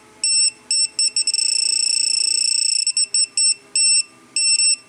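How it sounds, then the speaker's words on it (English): A high/low voltage alarm kit from Mitch Electronics sounds its electronic buzzer in a series of shrill beeping bursts, changing to a rapid continuous warble in the middle before returning to spaced pulses, loud and close with no talking. "this potentiometer changes the buzzer rate"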